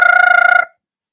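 A voice imitates the default Cisco desk phone ringtone, giving a short warbling trill for just over half a second before it stops abruptly.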